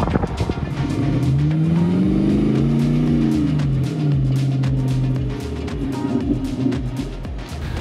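A Land Rover Defender fitted with a GM LS3 V8 revs and accelerates on a test drive, the engine note rising and falling loudly up close with a brief tire squeal.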